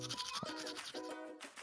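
Toothbrush scrubbing teeth, a steady close bristly rasp with rhythmic strokes continuing throughout, loud and alone with no talking.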